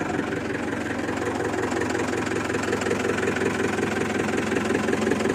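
A Mercedes Vario 709d diesel engine runs steadily and loudly up close, a dense mid-low rumble with a knocking, clattering texture holding fairly even throughout, with no voices over it.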